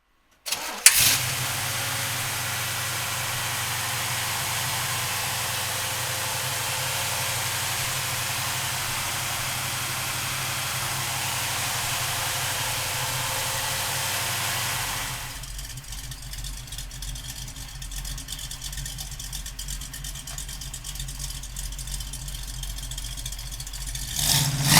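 A 1968 Chevrolet Camaro with a 454 engine cranks and fires, then settles into a loud, deep, rumbling idle that continues steadily, the tone shifting partway through as the engine calms down.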